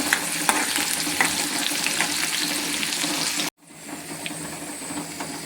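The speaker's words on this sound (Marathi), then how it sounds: "मोहरी छान तळल्यानंतर मी टाकलेला आहे कांदा" Steady crackling sizzle of onions added to fried mustard seeds in oil, small popping seeds, continuous and close, briefly cut off then resuming slightly quieter.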